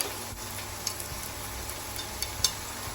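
Chopped garlic with onions sizzles in a pan for a beef liver sauce, a soft steady fry broken by a few light clicks of a utensil stirring.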